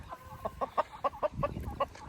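Aseel rooster and a white rooster tangling in a fight give quick, rhythmic clucking pulses, faint and fairly close, with no talk over them.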